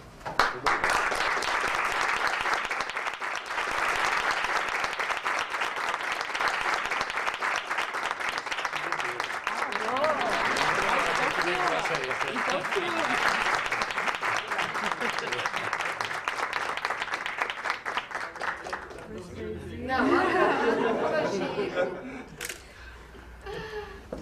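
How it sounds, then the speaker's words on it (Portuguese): A lecture audience applauds for a long stretch, sustained clapping with scattered laughter and chuckles, easing briefly near the end before a final swell. "certamente a nossa cultura tem no aplauso uma forma muito carinhosa de lhe agradecer sobre a transmissão do seu saber"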